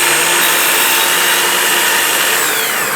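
A Capex saw set against a stop cuts a short 32 mm piece from a length of planed oak, producing a loud, continuous rasping roar that holds steady for a few seconds with no talking.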